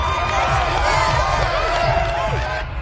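A home crowd at a football game roars and cheers loudly and continuously in a stadium, a dense wash of voices with shouts rising above it.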